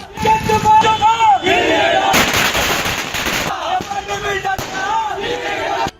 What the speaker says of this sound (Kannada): ಅಭಿಮಾನಿಗಳು ಪಟಾಕಿ ಸಿಡಿಸಿ ಇಲ್ಲಿಗೆ ವಿಶ್ ಮಾಡಿದ್ದಾರೆ